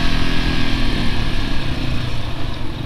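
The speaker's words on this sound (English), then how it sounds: "Stucker gonna wheelie on the bridge." A dual-sport motorcycle roars loud and close during a wheelie on a bridge, its engine revving steadily in a continuous rough drone.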